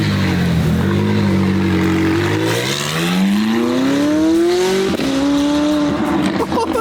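A Lamborghini Aventador in sport mode revs and accelerates hard, its engine note sweeping steadily upward in loud, close, roaring pulls with a brief shift-like drop between them.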